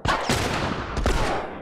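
Gunfire in The Last of Us on hard difficulty: two loud, sharp shots about a second apart, each with a rolling tail and ambient game noise in between.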